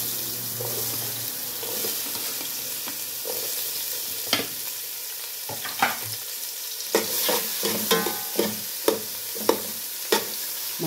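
Chopped onions hitting hot oil in a pan of rabbit curry with potatoes, a steady sizzle broken by sharp stirring clinks and scrapes of a utensil, no talking.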